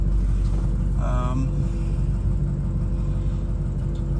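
A Ford 6.0 Powerstroke diesel truck engine runs steadily nearby, a constant low rumble with a brief higher whine around the first second, continuous throughout.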